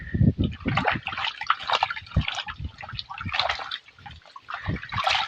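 Water splashes and sloshes from a farm water tank beside a sugarcane field in hot Punjab weather, in close, irregular bursts with no talking.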